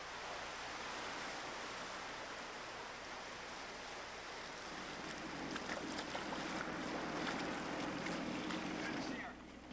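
A small paddle boat off the north coast of Moloka'i sails under an improvised sail of bamboo and a rain poncho, with a steady broad rush of wind and water that swells slightly louder in the second half.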